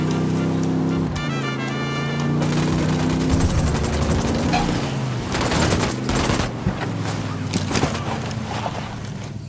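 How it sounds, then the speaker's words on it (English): Rapid gunfire crackles through repeated bursts in the video game Ghost Recon Wildlands, layered over a droning vehicle engine and ambient game noise, loud and close throughout. "I'm opening fire on these shitheads."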